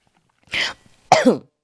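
Two coughs, close and fairly loud, separated by a short pause; the second is sharper and more forceful.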